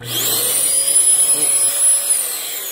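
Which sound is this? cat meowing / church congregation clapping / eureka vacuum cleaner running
eureka vacuum cleaner running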